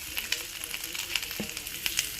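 Ground palm tuber meets ginger garlic paste and a pinch of asafoetida in a hot pan, giving a soft, steady sizzle with a few light crackles and a scrape or two across a short stretch.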